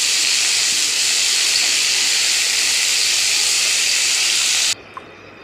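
Fenugreek leaves frying in hot oil give a loud, steady sizzling hiss that runs unbroken for almost five seconds, then cuts off abruptly, leaving a much quieter hiss with one faint click.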